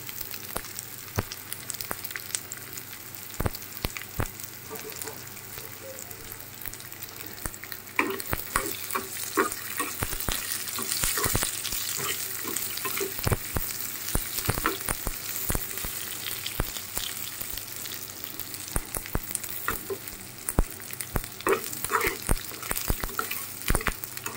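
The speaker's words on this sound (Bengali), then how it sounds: "পেঁয়াজ মরিচ একটু ভাজা হোক।" Steady frying sizzle with frequent sharp crackles and pops as black mustard seeds and dried chillies spatter in hot oil, continuous and fairly close, no voices.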